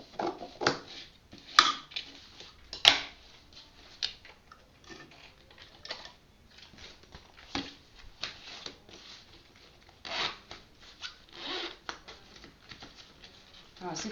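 Scissors snip through excess zipper pocket lining fabric on a handmade bag, giving a run of irregular short clicks and cuts up close, with talking heard in between.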